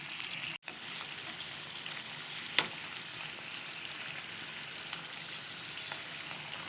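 Rajasthani-style chilli bondas fry in hot oil, giving a steady, close bubbling sizzle throughout, with a few brief clicks and knocks over it and no talk.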